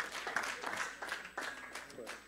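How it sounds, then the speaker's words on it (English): A church congregation claps in quick, irregular bursts. The applause is faint and distant, with voices partly mixed in. "Clap your hands for Jesus."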